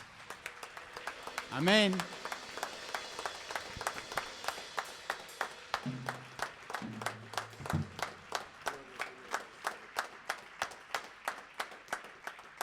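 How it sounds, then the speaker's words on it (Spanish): A church congregation clapping steadily in time, dozens of hands producing an even rhythmic beat throughout, with a voice speaking over it and some sung tones. "Si vamos a aplaudir al Señor, hagámoslo con ganas."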